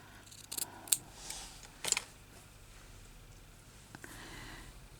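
Scissors snip off fabric trim for crazy patchwork, giving a few crisp close cuts in quick pairs over a quiet room, followed by fainter handling sounds.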